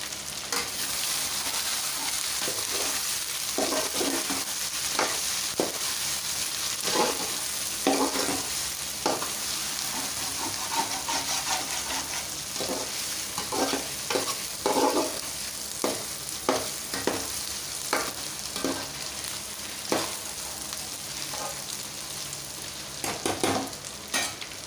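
Eggs frying in biryani masala gravy, stirred with repeated scraping strokes over a steady close sizzle, no talk.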